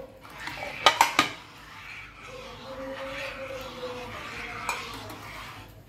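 Besan and curd liquid, blended in a mixer, poured into a pot and stirred while cooking: a few quick metal clinks at the start, then a steady close wash of stirring and bubbling with no talk.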